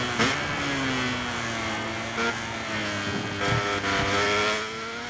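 A Honda motorcycle engine screams at high revs in MotoGP 24 at Assen, climbing through fifth gear with brief shift dips, loud and close, before braking into turn one.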